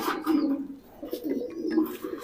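A racing pigeon coos in a low, soft, repeated warble, several throaty phrases following one another at close range with no talk over them.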